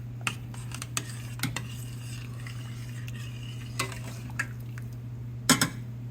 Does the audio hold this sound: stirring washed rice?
yes